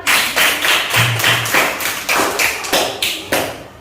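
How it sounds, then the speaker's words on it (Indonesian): Pupils in a classroom clap together in a patterned rhythm, groups of sharp close claps separated by short gaps, repeating evenly and loudly. "beri tepuk tangan buat kelompok 1 yang sudah maju duluan"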